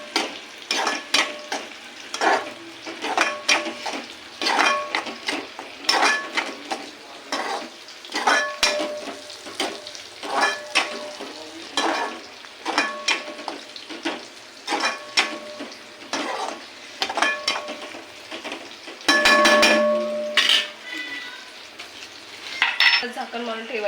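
Konkani masala fries in oil in a pan while a utensil stirs and scrapes repeatedly, giving rhythmic metallic clinks and scrapes over a soft sizzle, with a louder burst of stirring near the end.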